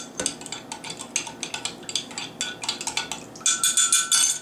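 A spoon clinks and scrapes against a bowl while stirring a pot sticker dipping sauce, giving quick bright rhythmic taps and rattles that grow louder and faster near the end.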